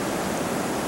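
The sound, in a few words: river rapids from released water, Allagash River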